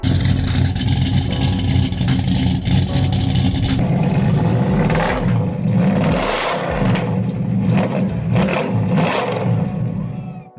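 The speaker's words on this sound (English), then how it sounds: "The roaring sound of a straight-through exhaust" A muscle car engine with a straight-through exhaust roars and revs, a loud continuous rumble rising and falling in surges, heard close and alone.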